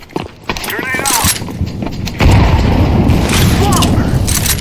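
A grenade explodes in Counter-Strike 2 as a sudden heavy boom that gives way to loud, sustained rumbling debris and gunfire noise, among earlier sharp shots and brief radio chatter.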